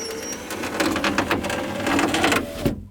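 A failing power window regulator motor inside a 2001 Chevrolet Silverado door whirs and grinds with a rattling, ticking texture as the glass moves slowly, close and loud, then cuts off abruptly just before the end.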